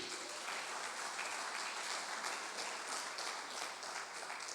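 A church congregation claps steadily during a sermon by Apostle Rogério Bernardi, a dense, continuous wash of applause heard a little distant, with no voices over it.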